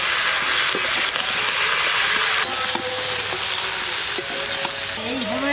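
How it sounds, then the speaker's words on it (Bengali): Potatoes and ridge gourd frying with salt and turmeric in a pan, a loud constant sizzle with repeated spatula stirring and scraping strokes, no talking. "আলু ঝিঙে একটু হালকা করে ভেজে সেদ্ধ করে নেব"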